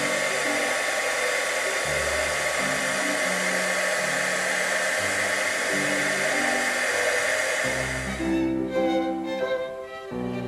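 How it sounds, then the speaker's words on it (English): A heat gun blows steadily while heat-setting two embossing powders on a daisy card, a loud continuous whooshing hiss up close, with faint background music layered under it and the hiss easing near the end. "we're going to heat set that with a heat gun and see how the two embossing powders slightly blend in nicely together"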